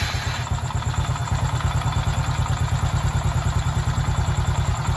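A Honda XRM 110 motorcycle engine idles close by with a fast, even, clattering putter, steady and alone throughout.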